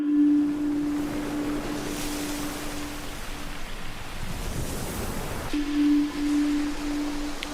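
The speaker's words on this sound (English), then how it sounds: "Got some ocean sounds," Ocean ambience at the start of a song: a broad wash of surf and waves under a steady low foghorn-like hum that cuts out midway and returns, moderately loud.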